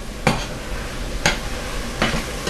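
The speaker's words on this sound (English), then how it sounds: "Do the same thing, try to break the tomatoes up with your spoon." A spoon stirs and breaks up tomatoes in a pan in three distinct scraping strokes about a second apart, over a steady low sizzle.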